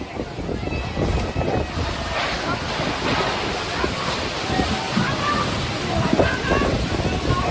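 Strong wind gusts roar through a heavy rainstorm in Noida, buffeting the microphone with loud, continuous rushing noise that swells and dips, while voices are faintly heard beneath.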